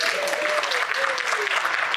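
Audience at a health freedom speaking event in Orlando applauding, a dense steady clapping that fills the whole stretch, with a voice faintly heard over it.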